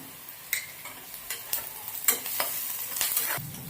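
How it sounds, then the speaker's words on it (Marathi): Onion sautéing in a pan with a pinch of asafoetida, a steady sizzle broken by repeated scraping strokes and taps of a spatula, fairly close and with no voices. "कांदा छान परतून घेऊया"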